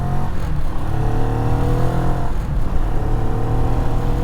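A Moto Morini Calibro motorcycle engine revs loud and close, its harmonic drone rising in pitch as it accelerates, dips briefly, then climbs again through the mid range, with no talk over it.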